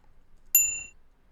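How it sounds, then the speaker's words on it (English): A synthetic bell sound effect in its original, unprocessed form: one bright, clear ding that rings briefly and decays, heard alone against silence. "if I open up that bell sound again, the original version"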